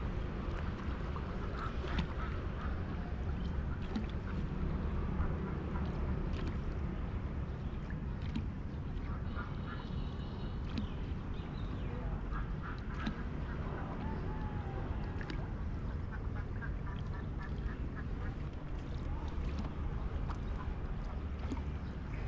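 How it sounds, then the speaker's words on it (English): Ducks quack intermittently over a steady wash of outdoor noise during a traditional Vietnamese bamboo boat ride, the calls fairly faint and scattered across a long stretch. "Ducks."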